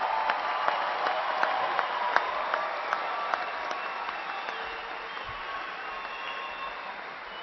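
Graduates at a spring university commencement receive a round of applause from the audience, broad, steady clapping filling the hall at a moderate level, with a few sharper individual claps standing out early on.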